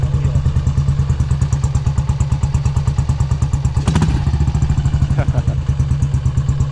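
A 1967 BSA motorcycle engine chugs rapidly and steadily after being kickstarted, with a clattering thump midway and the idle continuing loud and close.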